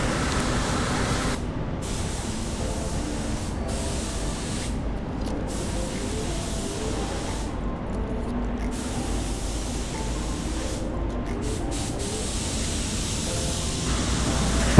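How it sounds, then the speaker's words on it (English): Steady, loud hiss of a Tekna Prolite paint spray gun laying three-stage white pearl onto a Lexus RX350 bumper at about 24–25 psi, with short breaks in the spray pattern between passes. "I'm just spraying it at 24-25 right here"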